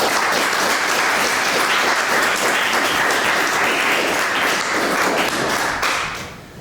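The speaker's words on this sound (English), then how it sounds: "we give all of the speakers a hearty round of applause for their remarks" An audience at a bar association president's installation ceremony applauds the speakers heartily, a loud, dense clapping that holds steady for about six seconds and then fades out.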